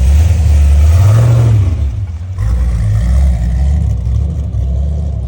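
The LS3 V8 in an FRS drift car revs up loudly, holds, dips briefly, then roars again with a deep, rough, close rumble throughout.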